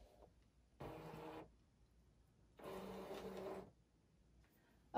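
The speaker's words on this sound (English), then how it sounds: "then you'll hit that mat button and it will feed it into the machine" A cutting machine pulls a cutting mat in while a home decor sign is being made: two short mechanical whirring bursts of motor and roller noise, close and moderately loud, separated by near silence, with no talking.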